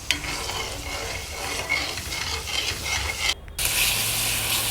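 Milk cream for desi ghee bubbles and sizzles loudly in a pan while a spoon stirs it steadily, giving a rough scraping rush. A short gap near the end breaks the sound before the frying comes back.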